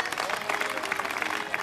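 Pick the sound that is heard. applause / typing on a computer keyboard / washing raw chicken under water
applause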